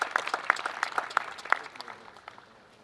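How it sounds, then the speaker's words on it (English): Light applause for students at a school groundbreaking ceremony, a small group clapping with distinct individual claps that soften and die away within a few seconds. "give a very round of applause for these beautiful students here today"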